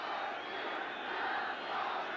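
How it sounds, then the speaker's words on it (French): A large stadium crowd at a European Champion Clubs' Cup semi-final penalty shootout between Dnipropetrovsk and Bordeaux chants a player's name, a steady distant roar of massed voices with no breaks. "alors la foule maintenant scande le nom de Krakowski"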